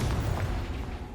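A Confringo fire spell bursts in Hogwarts Legacy during a battle with an Ashwinder, a short deep rumbling boom that fills the moment and fades without talk.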